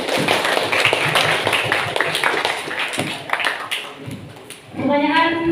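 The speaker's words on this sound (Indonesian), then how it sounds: "bisa tepuk tangan dulu." Clapping from a school audience at a student council candidate debate, fairly brisk and close at first, then thinning out, with voices talking over it toward the end.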